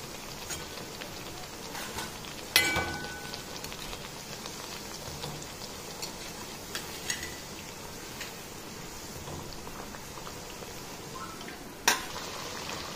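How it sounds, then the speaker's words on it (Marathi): Corn fritters (vada) fry in oil with a soft, steady crackle and hiss, punctuated by a few sharp clinks of a utensil against the pan. "सगळे वडे आपल्याला एक एक करून असे तेलामध्ये सोडायचे आहे आणि छान सोनेरी होईस्तोवर तळायचे"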